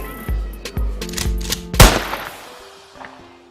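A gunshot sound effect: a rapid series of sharp, loud shots with one heavier blast near the end, followed by a fading echo, with no voices.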